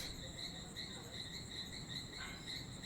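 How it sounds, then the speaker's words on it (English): Amazon rainforest frogs chorusing after rain, a dense, steady layer of high trilling calls against soft background noise, heard without any voices. "these frogs are singing to the rain we had"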